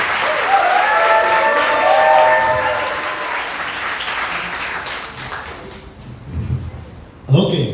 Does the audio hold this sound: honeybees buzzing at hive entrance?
no